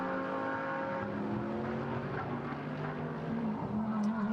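A GT race car engine at the Sepang circuit during qualifying, a steady loud drone with slowly shifting pitch that holds throughout and rises slightly near the end, with no speech over it.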